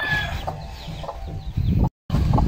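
Chickens cluck close by in short repeated bursts, with a rooster's crow mixed in and a brief dropout near the end.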